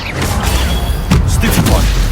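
The Incendio fire spell in Hogwarts Legacy lets out a loud whooshing burst with deep rumbling booms and crackles, close and sustained over about two seconds.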